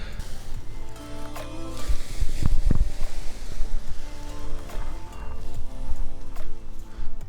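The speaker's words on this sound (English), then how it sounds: "We have a little bit of wind." Gusty wind roars and buffets the microphone outdoors while a BGD Luna 3 paraglider is kited on the ground, with a rough, uneven rush and flapping that surges midway.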